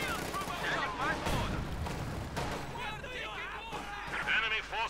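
Rapid automatic gunfire and explosions in a Company of Heroes 2 match, with bursts of battle noise heard under a commentator's fast talk.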